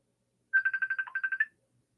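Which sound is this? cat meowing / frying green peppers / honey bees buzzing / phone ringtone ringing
phone ringtone ringing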